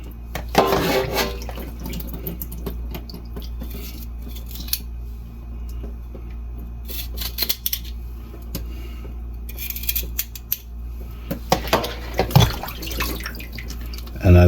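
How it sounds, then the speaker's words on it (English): Crabs with gills removed are rinsed under a little water in a kitchen, giving intermittent splashes, drips and clattering handling noises at close range. "you don't want to use too much water to clean them"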